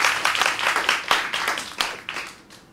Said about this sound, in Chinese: 我们给他掌声鼓励